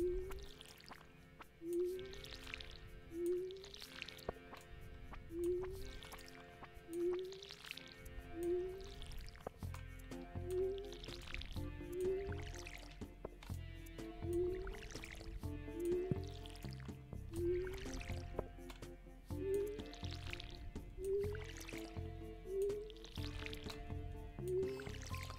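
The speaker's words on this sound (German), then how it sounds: "jetzt können wir auf jeden Fall schon mal eine Reihe gießen, ohne dass uns zwischendurch der Saft ausgeht" Watering can pouring water on crops in Stardew Valley Expanded: short, splashy pour effects repeat at a steady rhythm about every second and a half, faint over soft game background sound.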